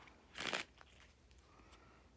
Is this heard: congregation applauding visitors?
no